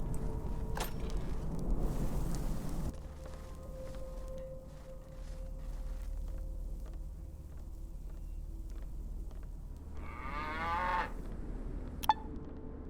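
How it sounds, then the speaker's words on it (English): A fat cow inside a small house in the video game ATOM RPG: Trudograd gives a single drawn-out moo near the end, over a low ambient game drone with scattered faint clicks. "Most of the room is occupied by a fat cow, alongside a smiling, bearded fellow"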